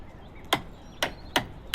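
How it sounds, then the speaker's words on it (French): A hammer strikes three sharp, separate thwacks at an uneven pace while a generator is built at a gas station in the survival game HumanitZ, each hit short and woody with nothing else heard. "Et là j'ai mon marteau bien évidemment pour le construire"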